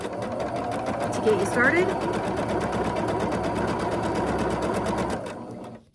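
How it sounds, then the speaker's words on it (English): A sewing machine stitches a quilt block along a marked line, a fast steady mechanical chatter running for about five seconds before stopping, with someone talking over it. "And I am sewing directly on the line"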